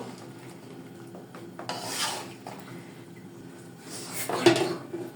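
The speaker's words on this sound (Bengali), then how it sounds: "সবজিটা একটু লেড়ে আমি ডাকনাতে ডেকে দিব" A utensil scrapes and stirs vegetables in a cooking pot in a home kitchen, two short bursts of metallic rubbing and clinking, fairly close but soft, over a quiet background hum.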